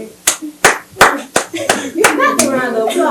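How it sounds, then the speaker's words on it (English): People clap their hands in a podcast studio, a handful of sharp, separate claps spaced about every half second, close to the microphone, with voices talking and laughing over the last part. "Round of applause."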